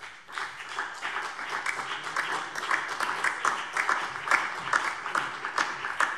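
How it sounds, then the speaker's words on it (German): Members of the Hessian state parliament applaud during a plenary session, with dense, steady clapping from a hall full of people that rises and continues throughout, sharp individual claps standing out. "Applaus"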